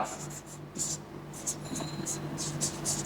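A pen writes on paper in short scratchy strokes, close and fairly quiet, while a person talks softly alongside.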